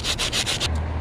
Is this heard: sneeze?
no